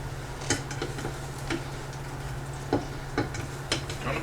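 Food frying in butter on a stovetop, likely a grilled cheese sandwich, gives a quiet, steady sizzle with occasional light ticks and clinks of a utensil against the pan.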